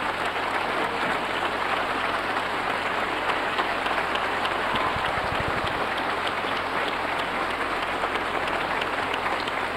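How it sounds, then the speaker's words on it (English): Steady, dense applause from an audience at a gospel concert, a continuous wash of many hands clapping with no pauses, sounding close and full throughout. "Y'all give her a hand clap."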